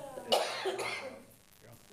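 A single harsh adult cough bursts out near the start, followed by a trailing rasp and quieter talk in an indoor city meeting room.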